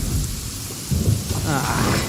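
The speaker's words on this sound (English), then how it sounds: "Lightning storm!" Steady rain and low rolling thunder fill a lightning storm in Genshin Impact, a dense continuous wash with a deeper rumble swelling partway through, no voices heard.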